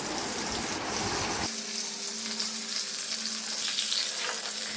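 Vegetables frying in hot oil in a wok: pumpkin, potato, drumstick and bitter gourd sizzling steadily after a louder burst of stirring at the start, with a faint hum underneath.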